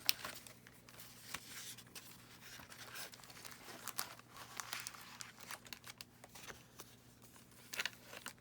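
Sheets of craft paper rustle and crinkle close by at a junk journal desk, soft irregular handling sounds with small crisp bursts, fairly quiet with no talking.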